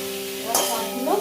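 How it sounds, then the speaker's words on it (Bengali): Tomato and green chilli hit a hot pan while cooking chilli chicken, a quiet steady sizzle that jumps into a brighter burst of hissing and scraping as they are stirred in, brief and close. "টমেটো এর মধ্যে দিয়ে দিলাম, কাঁচা লঙ্কাটাও দিয়ে দিলাম।"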